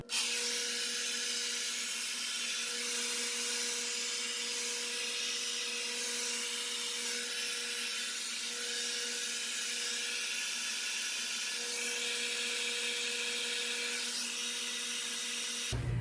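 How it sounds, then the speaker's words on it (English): A hair dryer runs steadily on a low setting, a continuous whirring hum with a faint tonal whine, unbroken for the whole stretch. "I'm going to take my hair dryer, and on low heat, I'm just going to hover around my head"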